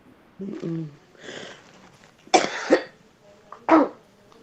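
Several harsh coughs ring out close up, a couple of them loud bursts, with softer vocal sounds in between.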